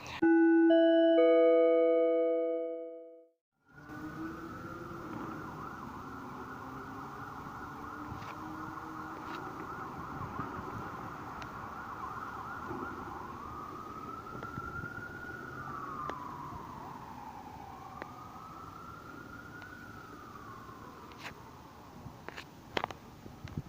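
A loud tonal chime rings out briefly, then a distant siren wails steadily with rising and falling sweeps over faint background noise.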